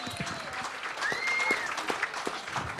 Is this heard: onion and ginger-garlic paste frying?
no